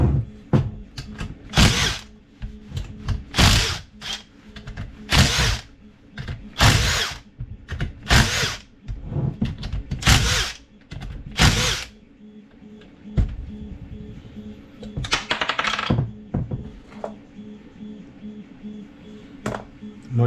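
A power drill removes screws from the gearbox casing of a Polaris Scrambler 500 4x4 quad, with about a dozen short, loud whirring bursts in quick succession, then a longer higher-pitched whine and a quieter mechanical rattle.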